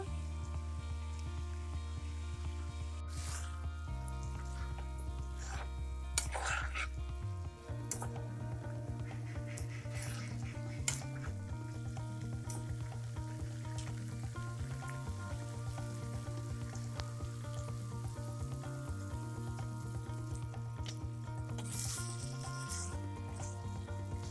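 Steady sizzling and crackling of mushrooms frying in a pan, continuous and close, with occasional clinks and stirring noises over a low hum.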